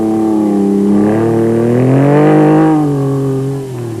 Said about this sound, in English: No trouble for the four-wheel drive 260 horsepower Mitsubishi Pajeros.